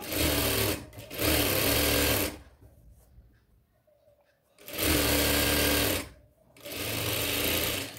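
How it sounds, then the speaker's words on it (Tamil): A sewing machine stitches the side seams of a chudithar lining top in two loud, steady runs, with a quiet pause between them before it starts again. "இப்போ சைடில் மட்டும் ஸ்டிச் பண்ணிவிட்டு அப்படியே நம்ம ஸ்டிச்சிங் வெளியே எடுத்துடலாம்"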